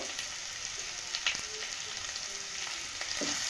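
Ground coriander and cumin are stirred into vegetables frying in a pan, giving a close, steady sizzle with soft scraping strokes of the spoon and a few light clinks, and no talking.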